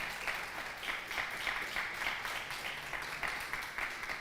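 Steady applause from a church congregation, somewhat distant and soft, with a continuous patter of many hands clapping.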